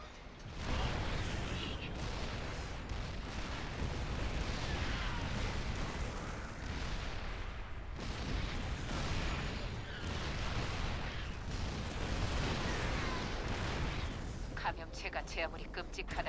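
Weapons fire in a StarCraft II co-op game, dense booming blasts and bursts rolling almost without pause, with a voice speaking over the barrage.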